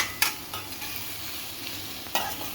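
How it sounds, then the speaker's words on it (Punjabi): Onions for a kofta curry fry in a pan with a continuous bright sizzle close up, with a couple of sharp stirring scrapes and no voices. "ਪਿਆਜ਼ ਨੂੰ ਥੋੜਾ ਜਿਹਾ ਪਕਾ ਕੇ ਫਿਰ ਆਪਾਂ ਲਸਣ ਤੇ ਅਦਰਕ ਪਾ ਦਾਂਗੇ"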